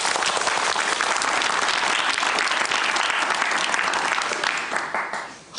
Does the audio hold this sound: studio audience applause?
yes